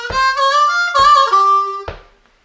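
A harmonica plays a short blues lick, with three bent, wailing notes in a row and the last one cut short.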